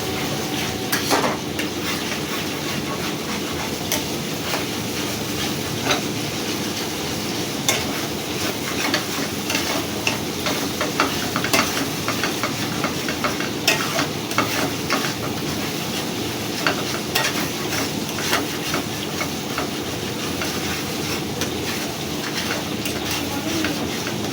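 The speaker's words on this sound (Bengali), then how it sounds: "হলুদটাও আমি ভালো করে মিশিয়ে নেবো" Turmeric powder being stirred into biryani in a pan: a continuous, close scraping and sizzling with frequent small metallic clicks from the spoon against the pan, steady in level throughout.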